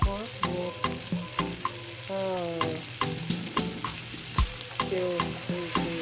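Pork for chop suey sizzles and fries in a pan while a utensil stirs it in steady scraping strokes, the clatter close and loud over a constant hiss of hot oil.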